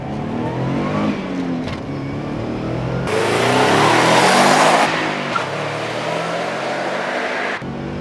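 A first-generation Subaru Impreza WRX STI with all-wheel drive revs hard, its engine note rising and falling in loud, close bursts, with one sharp climbing surge in the middle.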